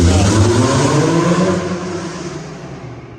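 Car drifting and revving at a car show, a loud engine roar with tire noise sweeping past and fading into the distance.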